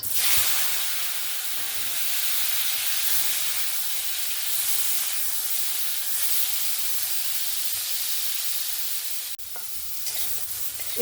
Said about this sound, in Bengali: আমি ওই তেলের মধ্যেই এঁচোড়টাও ভেজে নেব।